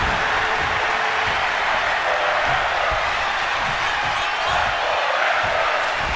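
A video game wrestling crowd in WWE 2K24 cheers in a loud, continuous roar that stays at an even level throughout.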